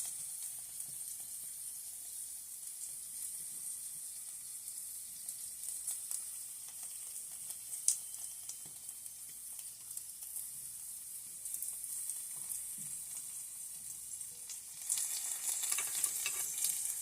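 Potatoes frying in a pan give a steady, soft sizzle with a faint crackle throughout, growing slightly louder near the end, with no talking.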